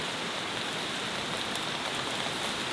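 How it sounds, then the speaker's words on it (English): Heavy rain pours steadily onto a camping tent, a dense, even hiss of drumming drops with no letup and no voices. "Just like that out of nowhere, it's absolutely chucking down"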